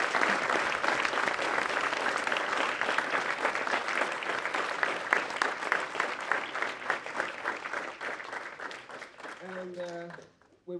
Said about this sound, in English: I would like to have a big applause for our guests here today.